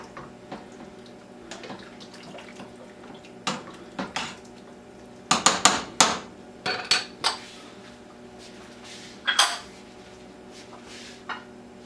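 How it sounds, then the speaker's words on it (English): A spoon stirs cabbage potato ham soup in a metal pot, sending out a scattered run of sharp clinks and scrapes against the pot's sides, close and clear over a quiet background. "Give it a stir."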